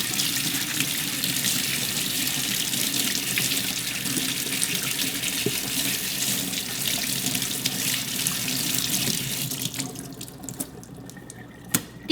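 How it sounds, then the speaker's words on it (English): Steady hiss of water running from a kitchen tap while washing, close and continuous, then cut off near the end with a few drips and clinks. "like this running water"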